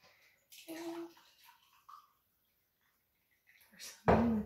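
A few soft clinks and faint rustles in near silence, then a short, close splash of Yogi tea pouring into a cup.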